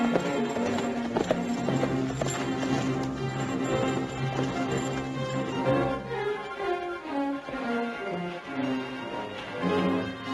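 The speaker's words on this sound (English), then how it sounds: "That's a right nice horse there" A horse in an old TV western clip-clops steadily along, with its hoofbeats running beneath loud orchestral music throughout.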